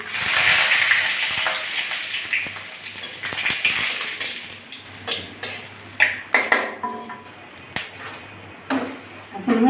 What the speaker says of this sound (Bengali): ডালটা ফোড়ন দিয়ে দিচ্ছি